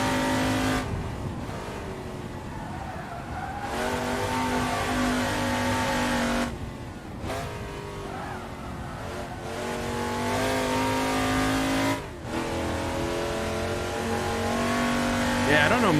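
Hillman Imp touring car racing on a circuit in the Assetto Corsa simulator, engine droning and revving continuously with repeated gear changes and brief lifts, close and loud throughout.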